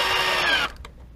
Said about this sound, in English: I'm actually pulling up on the drill while the screw is going in